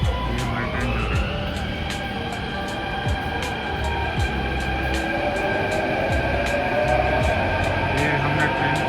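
A passenger train rolls past at close range with a loud continuous rumble, rhythmic clacks from the wheels on the track joints and a rising metallic whine.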